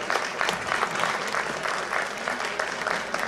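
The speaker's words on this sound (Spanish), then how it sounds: "efectivamente un aplauso lo ha hecho genial" A crowd claps loudly and continuously for reenactment combatants after a bout fought with falcata, spear, caetra and scutum shields, dense applause throughout with no distinct voices.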